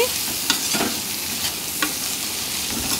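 Finely chopped ivy gourd is stirred with a ladle in a sizzling pan, steady close frying hiss broken by a few scraping, clinking strokes of the spoon.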